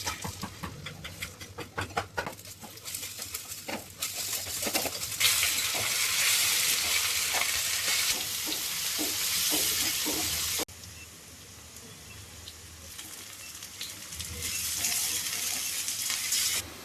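Chowmein stir-fried in a home kitchen pan: loud continuous sizzling that swells and drops back, with scattered clinks and scraping of a utensil against the pan, and no one speaking.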